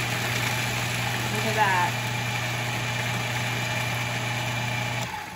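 An appliance grinds gluten-free bread into breadcrumbs with a loud, steady motor drone that holds throughout before dropping off near the end; a voice speaks briefly over it.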